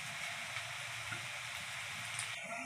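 Square Bengali pitha, a traditional sweet, sizzles steadily in hot oil in a frying pan, a continuous close crackling hiss with no pauses and no talk.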